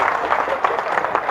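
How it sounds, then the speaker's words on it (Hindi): Applause from the audience at a Haryanvi comedy poetry gathering: a dense, steady wash of many hands clapping fairly close, with a voice faintly mixed in beneath it. "तालियां बजाओ साहब एक बार जोरदार मिलके"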